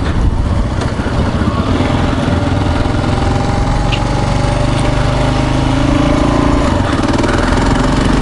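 Kawasaki KLR650 motorcycle single-cylinder engine chugging along, a loud, steady, throbbing rumble that holds even and continuous throughout without pauses.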